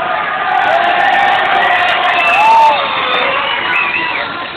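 A studio audience on a Spanish-language game show shouts and cheers loudly for a blonde contestant, a dense, excited crowd roar with whoops and children's voices that swells near the middle, tonal music running underneath.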